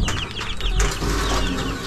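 Several chickens clucking close by, with short overlapping calls over a noisy outdoor background.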